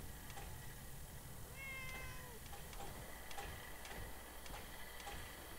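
A cat meows in Fallout 4, several short rising calls standing out over quiet ticking and ambient game sounds, fairly close and moderately soft.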